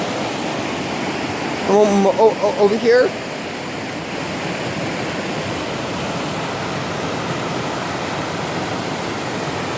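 Water rushes continuously from a falls or creek at Kokanee Creek park, a loud, steady roar filling the scene, with a person speaking briefly over it.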